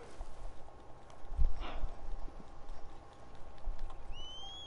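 Horse hooves clip-clop at a steady walking rhythm in the video game Red Dead Online, moderately close over a noisy game ambience with a few faint whistle-like tones near the end.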